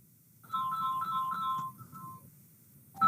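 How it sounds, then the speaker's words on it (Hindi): A phone ringtone plays a repeated bright melodic chime for about a second and a half, then a softer trailing phrase, heard clearly over a quiet room with faint background hum. "रेखा, गुड्डू का फोन है।"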